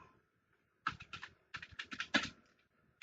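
Computer keyboard typing heard up close, a quick run of sharp key clicks in two short clusters after a brief silence, with no speech.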